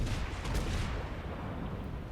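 Heavy naval guns of the battleship North Carolina in World of Warships fire in a deep booming salvo that rolls and fades into a low rumble.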